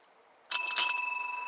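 A bicycle bell rings out once, sharp and close, its bright metallic tone ringing on and decaying slowly after a quiet start.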